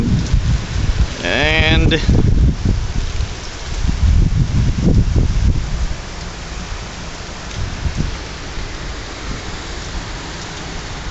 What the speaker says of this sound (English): it's like sheets of rain, like a hurricane